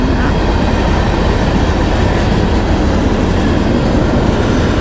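A moving train rumbles past close by, a loud, continuous roar of wheels and rail noise that fills the whole stretch without a break.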